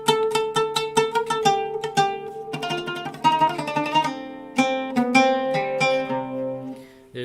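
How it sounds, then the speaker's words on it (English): An Arabic oud plucked in a quick, rhythmic run of notes, each string attack bright and dry with a round, bouncy tone, played alone and close with no talking. "So this is the sound of the Arabic oud."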